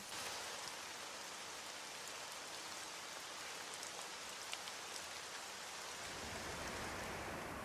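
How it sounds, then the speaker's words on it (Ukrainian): Cold, steady autumn rain falls in a continuous, even hiss of drops on surfaces, holding a constant loudness throughout with no voices. "Восени часто йдуть дощі."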